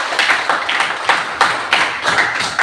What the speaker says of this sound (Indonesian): Tepuk tangan dulu untuk Natalia.